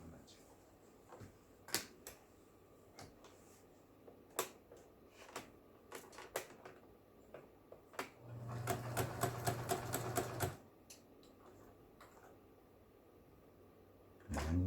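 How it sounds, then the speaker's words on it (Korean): A Janome household sewing machine, tested after repair, sewing a three-step skip stitch: scattered sharp clicks and taps, then a quick run of rapid needle strokes with motor hum lasting about two seconds, close and fairly quiet. "세발뛰기 바느질 두 발은 그냥 가고 세 발째 건너뛰어서 세발뛰기"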